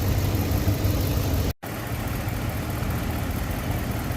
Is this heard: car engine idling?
yes